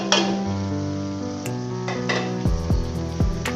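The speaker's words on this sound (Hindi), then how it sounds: "अब हम अच्छे तरीके से इसको भूनेंगे। अब हम साथ में दूसरे मसाले भी डाल देते हैं।" Tomatoes, chilies and spices frying in a pan, a steady sizzle broken by a few sharp metallic clinks and scrapes of a spoon against the pan.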